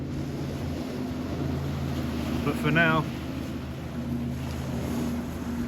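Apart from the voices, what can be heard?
boat passing on the water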